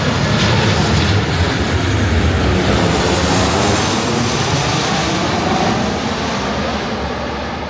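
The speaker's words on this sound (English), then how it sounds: "Oh, here comes another plane." Airplane passing low overhead near an airport, a loud broadband engine roar filling the whole stretch and easing slightly toward the end.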